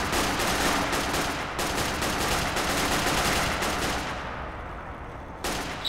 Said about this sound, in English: Shots fired. Multiple shots fired.